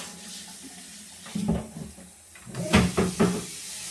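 Warm water running from a tap into a kettle for yarn dyeing, heard as a few short splashing bursts and knocks over quiet kitchen background, louder toward the end.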